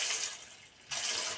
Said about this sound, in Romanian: Eu acum pun apă peste ele.